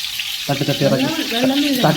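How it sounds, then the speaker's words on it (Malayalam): Mango pieces drop into hot oil and a loud, steady sizzle bursts up, crackling on as a voice talks over it. "ഇപ്പം നമ്മുടെ എണ്ണ ചൂടായിട്ടുണ്ട്. ഇനി നമുക്ക് ഇതിലേക്ക് നമ്മുടെ മാങ്ങ ഇടാം."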